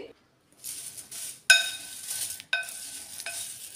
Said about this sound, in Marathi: लाल तिखट आणि चवीनुसार मीठ हे सगळे मसाले व्यवस्थित आता या पापडामध्ये मिक्स करून घ्यायचे